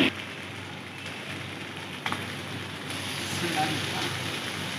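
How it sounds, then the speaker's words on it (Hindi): Desi ghee poured onto a hot coal hisses in a steady, fairly loud sizzle during a chicken malai tikka recipe, with a couple of small crackles and no speech over it. "अब मैं इसमें थोड़ा सा देसी घी डालूंगी ताकि इसको बारबेक्यू वाला टेस्ट आए, स्मोक आए।"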